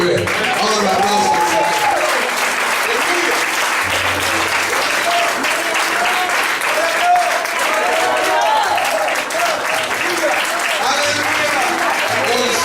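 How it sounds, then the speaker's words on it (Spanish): A church congregation applauds loudly and steadily in a continuous dense wash of clapping, while a voice speaks over it. "Vamos a aplausos."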